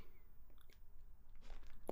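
Crunchy Trader Joe's snack with a peanut-brittle-like texture being chewed close to the mic, soft irregular mouth sounds building to a sharper crunch near the end, with no talking.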